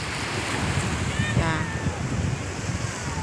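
Sea waves washing in at a beach, a steady broadband surf wash with wind buffeting the microphone, continuous and fairly loud, with no clear talk over it.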